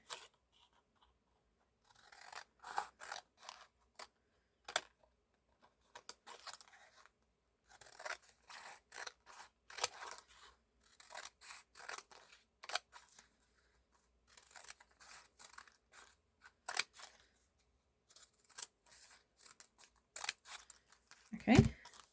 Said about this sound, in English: So I'm going to cut some strips into my tag.